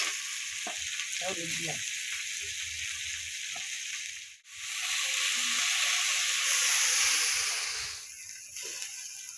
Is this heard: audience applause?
no